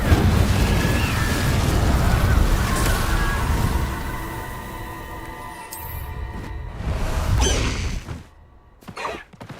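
An Incendio fire spell in the Hogwarts Legacy video game, a loud roaring blast and rumbling burst that fades over several seconds, followed by a few quieter whooshing pops near the end, with no speech.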